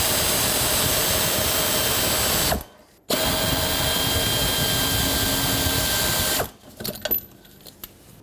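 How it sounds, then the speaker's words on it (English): An air ratchet spins loose the shock mount bolts on a 2011-2018 Volvo S60, a loud steady pneumatic whir running in two long bursts separated by a short pause, then dropping to faint clinks. "just going to use an air ratchet"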